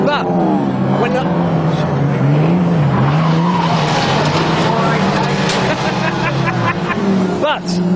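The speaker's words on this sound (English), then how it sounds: "You're racing pre-68 rear-wheel drive cars like a pre-68 getaway driver" Classic pre-1968 rear-wheel-drive cars racing wheel to wheel, tyres squealing and engines roaring loudly and continuously, with a voice talking over the noise.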